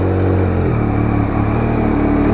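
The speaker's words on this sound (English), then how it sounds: "listen to the sound of this triple engine" A Yamaha MT-09 motorcycle engine idles and revs steadily with a deep, throbbing three-cylinder rumble, close and loud throughout, with no talking.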